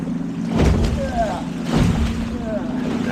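Sailboat riding over motorboat wakes on open water, with rushing water and wave slaps, low hull thumps and wind noise close by, as people talk over it.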